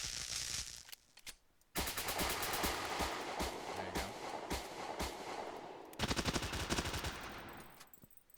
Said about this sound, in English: Let's say if I want to turn this off and only have gunshots.